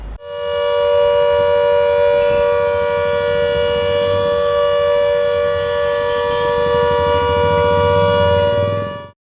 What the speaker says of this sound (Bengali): মক সাইরেন বাজানো হয় মালদায়।